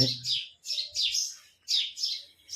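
Small birds chirp in quick repeated bursts, bright and close, with brief pauses between the chattering calls.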